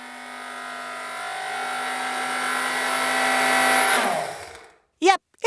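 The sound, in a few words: blender running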